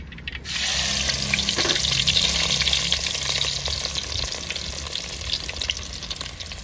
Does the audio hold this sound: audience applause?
no